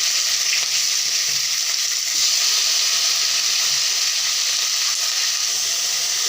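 Tomatoes dropped onto fried onions in hot oil in a wok give a loud, steady sizzle and hiss that carries on without a break from close by, with no voices.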